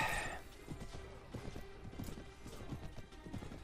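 Horse hooves clip-clop in a steady, busy rhythm in the medieval battle game Mount & Blade (A Clash of Kings mod), with a brief whinny near the start and a continuous low rumble of movement underneath.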